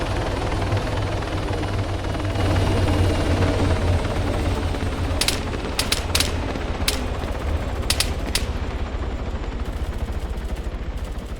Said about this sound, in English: I still don't understand why people insist on landing the choppers